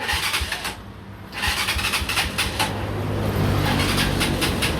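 A Honda TMX Alpha motorcycle with a hard-starting problem is cranked on its electric starter. A loud, close, continuous mechanical churning carries a rapid pulsing rhythm, with a brief dip near one second before it resumes steadily.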